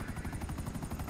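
A video game helicopter thumps with rapid rotor chops, loud and close, in a short burst with no talking.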